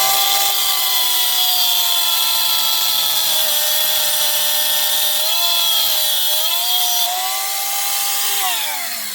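A power tool cuts through a long bolt during a 240SX clutch install, giving a loud, steady high-pitched whine whose pitch wavers and drops near the end as the cut finishes, with no voices.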